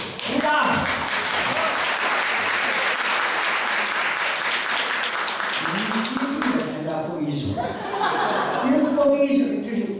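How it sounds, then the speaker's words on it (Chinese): Church gathering audience applauding, a dense, loud burst of clapping that fills most of the stretch, with chuckles and voices rising beneath it as it tapers. "鼓掌。"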